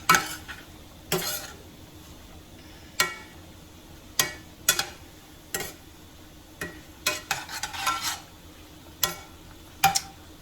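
Gulf shrimp sauté in butter in a pan and get tossed repeatedly, with sharp scraping and clattering bursts at irregular intervals over a faint sizzle, close and fairly loud, with no talking.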